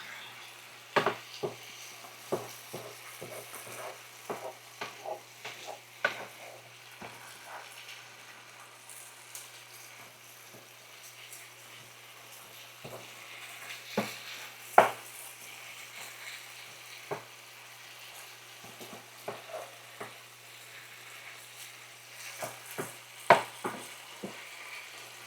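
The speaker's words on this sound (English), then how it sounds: "cook these vegetables in some olive oil" Vegetables frying in olive oil on an induction range, a soft steady sizzle broken by frequent light scrapes and taps as they are stirred, close but fairly quiet throughout.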